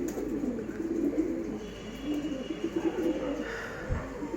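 Pet pigeons coo in low, throaty rolls, several birds calling close by with a soft flutter of wings near the end, and no talking over them.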